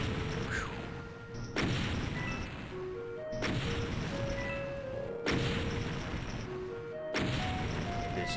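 Explosions go off in the video game The Golden Souls, several sharp crashing blasts at regular intervals of about two seconds, moderately loud over a steady background hum with short electronic tones between them.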